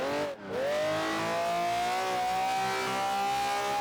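An all-wheel-drive FR-S with a V12 swap slides under power, its engine holding a loud, steady high-revving tone that climbs slightly after a brief dip near the start, with no talking.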